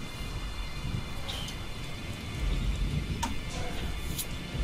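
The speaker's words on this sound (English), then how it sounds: "you hear the thunderstorm coming in upon you" Steady rain falls in the woods with a low rumble of thunder rolling underneath, swelling louder midway through, with a few sharp crackles.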